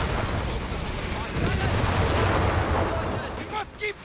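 Dense machine gun and artillery fire from a Company of Heroes 3 battle, continuous loud rattling bursts and booming blasts layered together, with a voice talking over the din.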